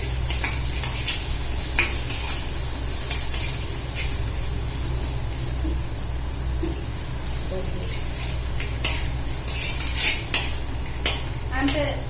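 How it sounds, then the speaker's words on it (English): Turmeric is sautéed in oil in a pan while being stirred, producing a steady close sizzle with repeated scraping and clinks of the utensil against the pan, and some faint voice in the background. "And keep on stirring it, saute it very nicely."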